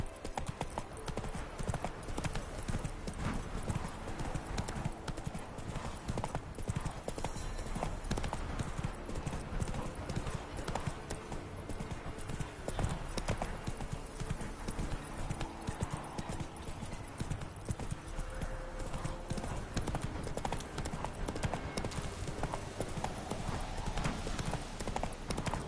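Roach the horse trots in the video game The Witcher 3 on PS5, hooves clip-clopping in a steady, fast rhythm for the whole stretch, with an occasional whinny.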